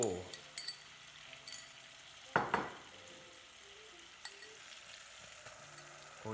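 Mushrooms and onions fry in melted margarine with a faint, steady sizzle, punctuated by a few brief clinks and scrapes of stirring near the start and middle.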